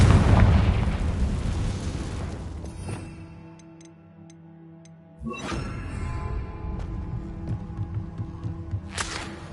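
A Confringo fire spell goes off in Hogwarts Legacy as a loud burst of explosive rumble. It fades to near quiet, then a second blast erupts and rolls on with crackling debris until a sharp final pop.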